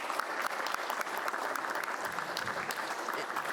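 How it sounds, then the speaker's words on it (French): An audience at a coaching conference applauds for the presenters. The clapping is steady and moderately distant, a dense patter of hands that carries evenly without break. "je pense qu'on peut les applaudir"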